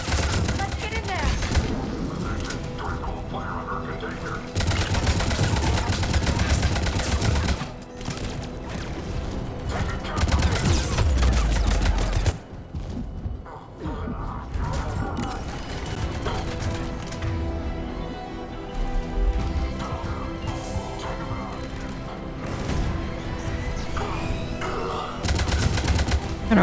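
Sustained heavy gunfire from a Mass Effect 3 firefight rattles in dense bursts for most of the stretch, with a few brief lulls and booming impacts. Voices speak at times over the shooting.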